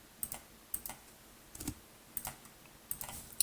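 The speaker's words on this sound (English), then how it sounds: "I'm just going to start typing it" Keys clatter on a computer keyboard in short, irregular bursts of sharp clicks, fairly quiet and close, with no talk.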